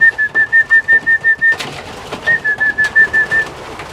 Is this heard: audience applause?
no